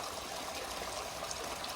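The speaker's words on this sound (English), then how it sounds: "the last time to hear the sound of the waterfall" A garden waterfall pours and splashes in a constant, dense rush of water, steady and fairly close with no voices.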